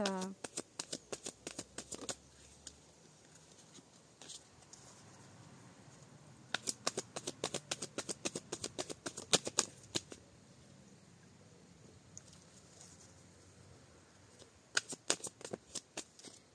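Tarot cards are shuffled in rapid, crisp riffling bursts with quiet pauses between them, close by and fairly soft.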